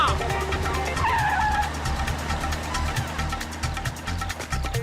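Cartoon vehicle skidding to a halt in an animated comedy, with a loud sustained tire screech over a steady engine rumble, filling the whole moment without talk.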